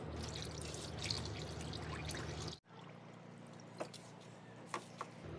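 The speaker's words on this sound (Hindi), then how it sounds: "एक बार फिर से इसके अंदर पानी भरूंगा" Water pours steadily into a car radiator during a cooling system flush, a continuous trickling stream that stops abruptly, followed by a few scattered drips and small splashes close by.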